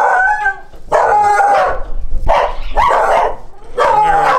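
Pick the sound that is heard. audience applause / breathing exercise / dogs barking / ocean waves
dogs barking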